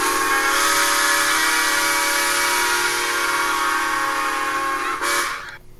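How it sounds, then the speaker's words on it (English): A steam locomotive whistle blasts loud and close in one long sustained shriek for about five seconds, then cuts off abruptly. "She blew her whistle. In fact, I actually have the real audio that was taken during that time. It is very loud."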